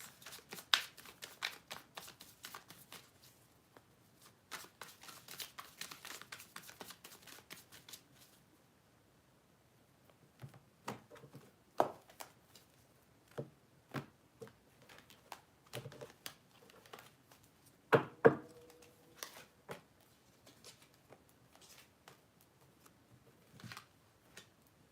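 Tarot cards shuffled in quick riffling bursts, then pulled and laid down one at a time as separate soft snaps and slaps with quiet pauses between them, all close and fairly faint.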